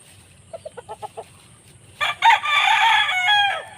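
A few quick soft clucks, then a loud rooster crows close by at a chicken farm, its long call rising and holding before trailing off.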